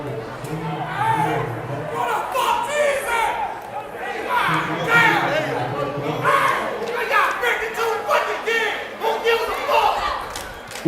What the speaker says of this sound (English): Don't know if you guys can hear the crowd.